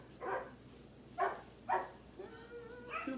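A dog barks in a home kitchen during apple-filling preparation, giving three sharp barks close together over about two seconds, then quieter yips, moderately near.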